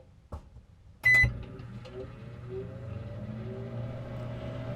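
A microwave oven cooks an omelet at 30% power. A click and a short beep come first, then a steady low electrical hum with a faint whirring turntable runs on.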